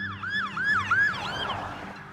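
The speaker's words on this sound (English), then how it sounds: "As the sirens approached" Several wailing emergency sirens rise and fall in overlapping sweeps as they draw nearer through a city on a stormy winter night, loud and steady with no voices.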